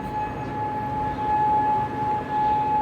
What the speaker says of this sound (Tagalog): Start na naman ang wangwang.